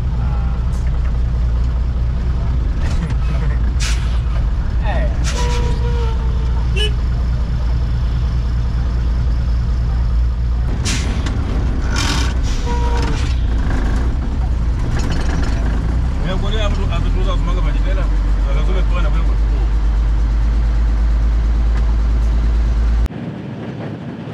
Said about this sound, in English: So this is where you catch a taxi going to Monkey Bay.